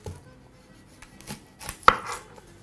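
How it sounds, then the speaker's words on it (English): A knife chops a red onion on a board in a few sparse, quiet strokes, with one sharper cut near the end and no talk. "I'm going to proceed to also chop up some red onion"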